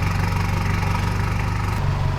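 A truck engine idles steadily up close, a low rumbling throb with even pulsing that holds for a couple of seconds and shifts slightly near the end, with no talking.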